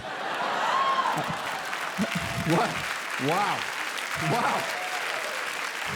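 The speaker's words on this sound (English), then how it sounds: "An applause break for a Galileo joke." A stand-up comedy audience applauds after a joke about Galileo, a dense, steady clapping that fills the whole stretch, with a few whoops and cheers rising over it.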